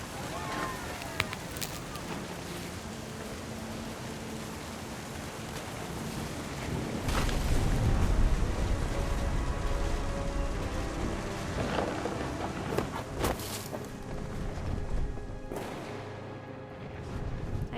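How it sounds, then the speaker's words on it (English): Rain and rolling thunder from a video game, a steady wash of rainfall with a swelling rumble and a few sharp cracks of thunder at moderate level, while a voice narrates over it. "The thunder sounded much too close and full of angry power."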